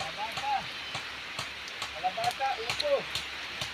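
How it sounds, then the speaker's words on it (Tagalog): Steady rain falls on a rural farm plot where a farmer is planting vegetables, a soft continuous hiss with scattered brief drops and taps, with faint voices murmuring in the background. "Ayan po si Kapitik, nagtatanim po ng gulay habang umuulan."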